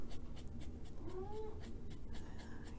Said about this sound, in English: Yeah, that's my kitty.